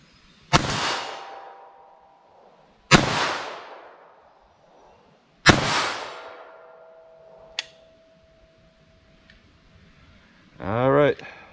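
Three sharp, loud .22 LR rifle shots from Aguila Interceptor rounds, each one ringing out with a long decaying tail. A fainter snap follows, then a brief rising mechanical whir at the end.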